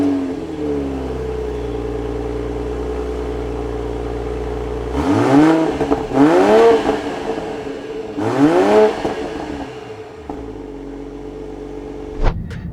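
A 2022 Toyota GR Supra 3.0 idles steadily, then its engine revs sharply three times in quick succession, each rise and fall loud and close, before settling back to idle and ending with a brief click.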